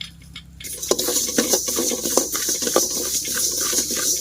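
Fenugreek and mustard seeds frying for an Indian gooseberry pickle in an outdoor kitchen by a field, a steady crackling sizzle with faint scraping of a ladle in the pan, close and continuous.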